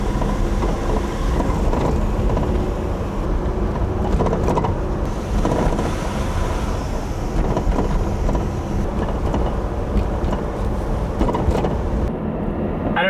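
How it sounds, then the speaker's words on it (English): A Saturn Sky sports car's hood shaking and rattling while driving: a steady, dense roar with continuous buzzing rattle throughout, loud and unbroken, with no speech. "the hood shakes like absolute crazy and it makes this obnoxious noise"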